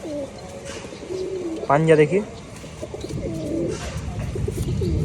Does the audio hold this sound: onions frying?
no